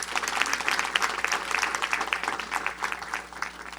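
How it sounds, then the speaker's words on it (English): An audience in a session at Montgomery College claps for the chair of the nursing program, giving dense, steady applause from many hands throughout with no speech. "Let's give her a round of applause."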